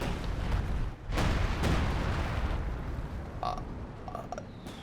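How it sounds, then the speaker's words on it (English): Breakthrough artillery in Company of Heroes 2 pounds a British Comet tank, with a sustained roar of blasts and rumbling impacts filling the battle, then a few sharper cracks near the end. "Comet being annihilated by the breakthrough artillery."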